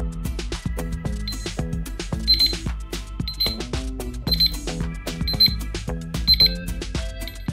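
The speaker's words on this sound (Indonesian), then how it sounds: "Alarm akan berbunyi selama 1 menit." A digital LED wall clock alarm beeps repeatedly in regular bursts over a dense, busy background of clatter and tones, steady and fairly loud throughout.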